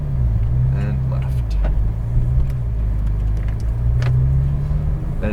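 A Porsche 911 GT3 rolls slowly out of a pit lane under light throttle, a low steady engine drone close by, with a voice talking over it.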